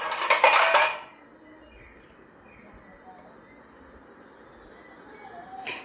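Washed steel utensils being stacked and arranged during the monsoon, a loud clatter of metal dishes for about a second, then quiet with faint background sounds and another light clink at the end.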